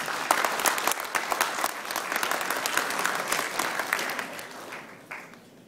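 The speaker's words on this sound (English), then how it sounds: "They work 24 hours a day to make sure that all the stages, all the starting point and finishing points are done on time for the race." Audience applause for the Tour of Borneo race crew at the Stage 5 Kundasang–Kota Kinabalu ceremony: sustained, dense clapping from a crowd, steady throughout and easing slightly toward the end.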